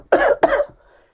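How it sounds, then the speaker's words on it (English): A man coughs twice in quick succession, two sharp, close bursts followed by a brief raspy trailing breath. "He coughed and retched"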